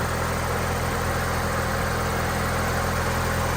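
A 1989 Toyota Celica GT-Four Rally ST185 with a freshly rebuilt engine idles steadily, a constant low mechanical hum and rumble with no revving and no voices.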